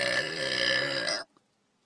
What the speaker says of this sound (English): So I have to burp.